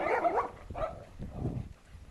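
A dog in a vegetable garden gives a few short barks and yips at close range, scattered across roughly two seconds of uneven outdoor noise, with no voices.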